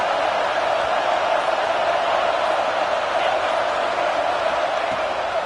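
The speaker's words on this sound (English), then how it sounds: "The roar of the crowd trying to fuel this defense to keep them pinned in their own end." Football stadium crowd at a Tennessee versus North Carolina game, a steady, dense roar that holds at even loudness throughout, with no distinct voices or calls standing out.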